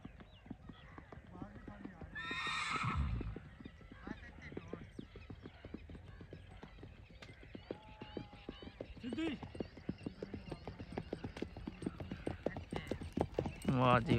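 A mare being led back on foot, her hooves clip-clopping in a steady walking rhythm with a neigh early on, while people talk over the hoofbeats outdoors.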